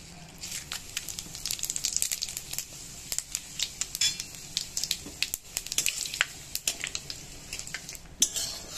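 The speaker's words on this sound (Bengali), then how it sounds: "এই তেলেতেই আমি দিয়ে দেব 5 ফোড়ন আর 2টো শুকনো লঙ্কা।" Panch phoron and two dried chillies hit hot oil in a pan, giving a light crackling sizzle with frequent sharp metallic clinks of a spoon against cookware, fairly close and with no talking.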